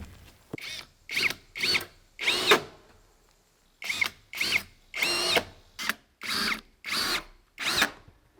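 A power drill set to clutch 19 drives metal roof screws with washers into a workshop roof, a series of about eleven short whirring bursts separated by brief pauses, close and clear with no talking.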